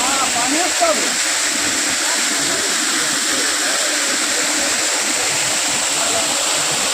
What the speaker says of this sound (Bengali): অনেকটা উপর থেকে জলগুলো নামছে